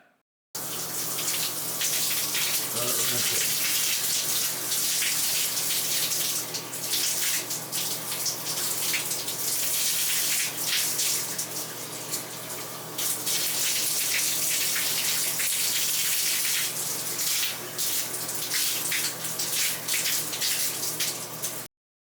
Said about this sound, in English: I can rinse down the walls, because there's a lot of mud going down the drain.